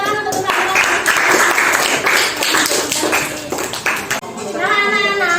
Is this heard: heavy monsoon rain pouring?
no